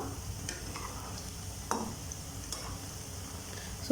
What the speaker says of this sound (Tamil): இப்போது மீடியம் ஃப்ளேம்லேயே வச்சு இதை நல்லா கிறிஸ்பியாக வர்றது வரைக்கும் ஃப்ரை பண்ணி எடுத்துக்கலாம்.